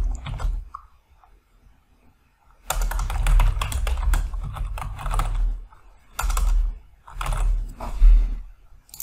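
Bursts of rapid clicking come from a computer keyboard as someone types an email reply, with gaps of near silence between them, close and fairly loud.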